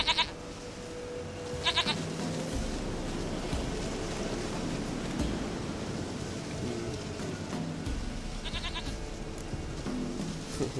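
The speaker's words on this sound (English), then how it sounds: "Goat of mine, dearest, sweetest goat." A goat bleats in The Witcher 3 video game, with a few short, wavering cries at the start and near the end over a constant wash of ambient noise, and no talk.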